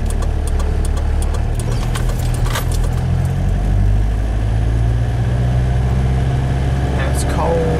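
Car engine idling with the clutch left alone while rolling along on a cold night drive, a steady low rumble throughout with faint clicks and taps above it.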